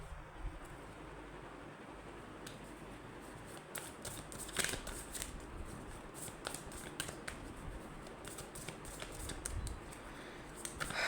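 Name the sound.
shuffling tarot cards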